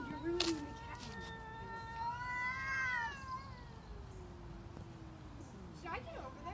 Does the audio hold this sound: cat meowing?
yes